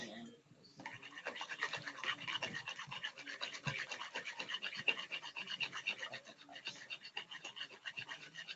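A whisk works through dinner roll dough in a bowl, giving quick, rhythmic scratchy strokes that stay fairly soft and close throughout.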